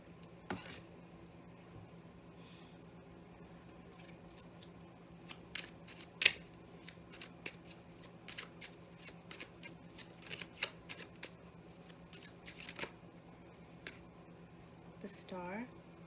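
Tarot cards shuffled and drawn in a quiet room, scattered soft flicks and snaps across a long stretch with a few sharper slaps, faint and close, while a voice speaks at times.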